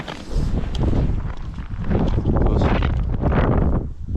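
Strong wind gusts over thin ice during pike fishing with tip-ups, a loud steady broadband roar that swells and dips throughout, close to the microphone with no talk.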